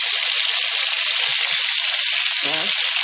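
Loud, steady sizzling of food frying in hot oil on a wood-fired stove, a dense hiss filling the whole clip, with a brief faint voice-like murmur near the end.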